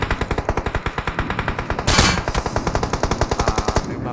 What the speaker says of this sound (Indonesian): Tembakanmu sakit, Bang.